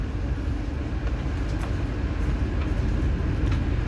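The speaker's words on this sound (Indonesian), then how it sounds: "perjalanan naik kereta api gaya Baru Malam Selatan nggak lama lagi sudah tiba di Jakarta" Gaya Baru Malam Selatan passenger train running near Cikarang on the way to Jakarta, a loud steady low rumble and rolling roar with faint periodic clicks of wheels on rail joints, heard from inside the carriage.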